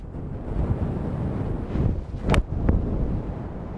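Strong wind gusting on a golf course, rumbling and buffeting against the microphone in steady waves with a couple of brief sharp knocks.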